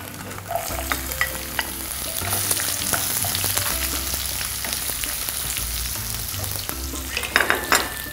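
Paneer fries in a pan, a steady sizzle with stirring scrapes and clinks throughout.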